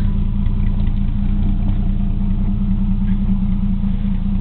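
A car engine idles steadily at close range after carburetor work and a cleaned distributor cap, a continuous low rumble with a slightly uneven mid-range rhythm and no talk.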